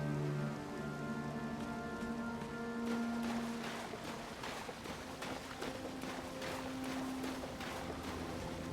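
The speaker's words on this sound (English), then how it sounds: "right here it's always raining" Rain pours steadily in the Elden Ring game world, an even close hiss of drops on surfaces with a low tonal drone underneath, continuous and without speech.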